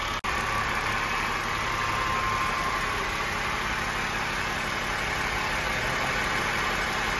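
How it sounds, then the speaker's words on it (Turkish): Steady mechanical whine and hum from an idling BMW X5 3.0 diesel engine, close and constant, with a faint high-pitched tone from a faulty power steering pump running underneath. "Aracımızdan gelen ses direksiyon pompası, servo diye geçer."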